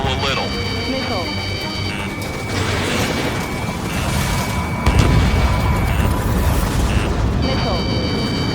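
Missile explosions boom one after another in the jet combat game Ace Combat 7: Skies Unknown as the Arsenal Bird's laser cannon is hit, with rumbling blasts under steady, high electronic warning tones.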